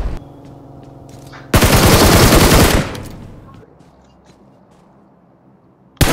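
Rapid automatic gunfire in a tournament shooter video game, a loud dense burst of about a second over steady game ambience, fading into background noise before a sharp shot near the end.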